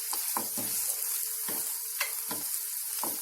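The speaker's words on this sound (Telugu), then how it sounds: "ఉల్లిగడ్డలు గోల్డెన్ కలర్ వచ్చే వరకు ఫ్రై చేసుకున్నాము." Onions sizzle steadily in a pan with a constant frying hiss, and a spatula scrapes through them in several distinct strokes spaced roughly every half second to a second.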